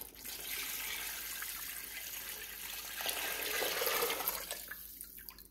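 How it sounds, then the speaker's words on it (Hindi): Water pours steadily into a cooking pot of beef nihari, a continuous splashing rush that swells louder midway before tapering off. "इसमें पानी डाल लेते हैं।"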